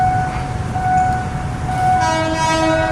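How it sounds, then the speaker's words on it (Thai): Horn of an Alstom diesel locomotive on a crude oil train near Makkasan, sounding sustained tonal blasts over the rolling rumble of the train, loud and close. "เสียงวีดนะครับ"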